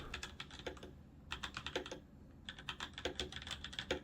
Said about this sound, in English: Here's what it sounds like at full speed if you bottom out the keys